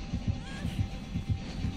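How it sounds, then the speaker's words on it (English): In the video game Dead by Daylight, the killer's warning heartbeat thumps in a steady, low double-pulse rhythm, with several beats in quick succession, faint and muffled beneath a soft background hum. "When you hear your heartbeat, that means he's really close."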